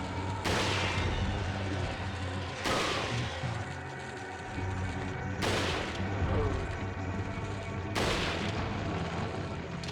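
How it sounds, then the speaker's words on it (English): Heavy rifle shots in Resident Evil 4 on PS2, four loud booming reports spaced a couple of seconds apart, each ringing out over a continuous game background. "I prefer using the rifle."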